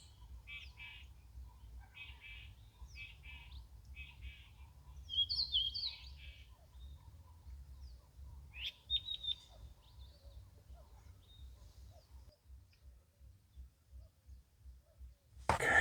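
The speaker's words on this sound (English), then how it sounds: "Birds." Small birds chirp and trill in short repeated bursts across open Klein Karoo scrubland in the Western Cape countryside, fairly close and clear over a low steady rumble of wind.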